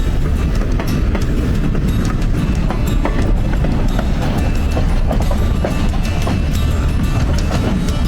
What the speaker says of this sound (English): This is a modern representation of Abraham Lincoln's funeral train.